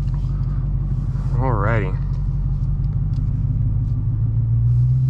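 Low, steady engine rumble from a Dodge Challenger Hellcat set in street mode as it pulls away, loud and continuous throughout, with a brief spoken word over it early on.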